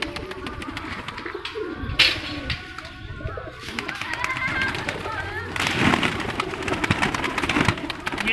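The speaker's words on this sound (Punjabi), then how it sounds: "ਇਹ ਹੈ ਸੁਰਖਾ ਕਬੂਤਰ ਹੈ ਜੀ, ਰੱਤਾ ਕਹਿ ਸਕਦੇ ਹਾਂ ਇਹਨੂੰ ਆਪਾਂ" A surkha (ratta) pigeon, one of a pair held for breeding, coos in low repeated phrases at close range beneath steady talking and busy background noise.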